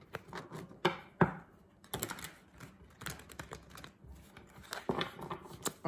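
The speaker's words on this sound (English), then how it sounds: "Two more shuffles" A deck of tarot cards being shuffled, quick papery riffles and soft slaps in short bursts, close and fairly quiet with pauses between.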